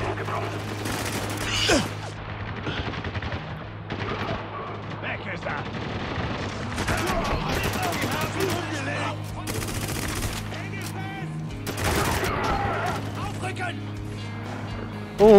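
Gunfire in the video game Spec Ops: The Line: sniper shots and machine-gun bursts crack out in loud, irregular volleys, with someone talking over the fighting.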